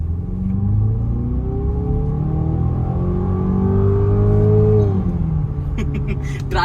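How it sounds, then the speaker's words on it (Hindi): A Range Rover Velar R-Dynamic engine roars loudly and steadily, its pitch climbing and then dropping as it revs. "जो रोर है इंजन का, रोर सुन रहे हो?"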